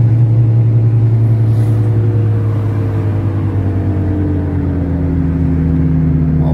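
Inside a car driving on the BR 163 highway, a steady, loud low engine and road drone holds evenly throughout, with no talking.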